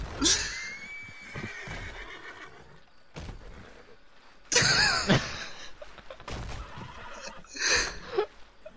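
Several loud, shrill horse whinnies in the video game Red Dead Redemption 2 come in bursts with pauses between them, plus a few thumps and clattering noises in the background.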